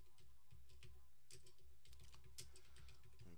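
Quick irregular key presses on a computer keyboard, soft close clicks and taps scattered over a low steady hum, with no voices.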